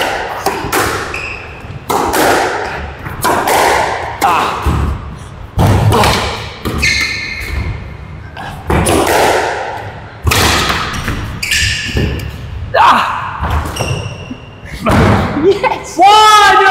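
A squash rally rings out in a court, with sharp ball strikes off rackets and walls arriving in uneven bursts, while players shout and talk between and over the shots.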